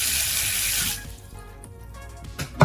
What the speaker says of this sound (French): on réappuie, l'eau s'écoule